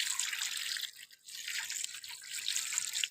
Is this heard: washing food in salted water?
yes